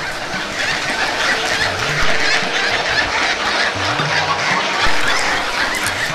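A colony of nesting birds in a pipal tree keeps up a loud, continuous chorus of overlapping calls and chatter, close and unbroken throughout.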